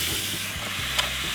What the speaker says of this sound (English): The burgers are sizzling.